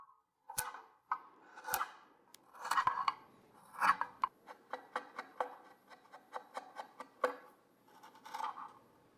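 Hand carving of a wooden saya around the habaki area for a Shusui katana replica, heard as a close series of crisp scraping and chipping strokes, irregular at first, then quicker and more even.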